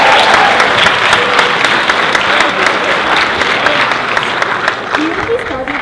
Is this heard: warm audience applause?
yes